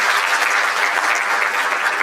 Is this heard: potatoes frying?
no